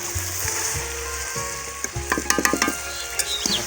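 Soybeans frying in a pan over a village cooking fire, a steady sizzle with a run of clinking stirring taps toward the end, no voices.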